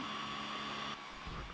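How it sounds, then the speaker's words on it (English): A 3D printer runs a long print during a DIY desk build, giving off a steady, loud whirring fan-like drone with a faint tonal hum that shifts slightly partway through, with no talk. "So now we're just waiting on the 3D printer."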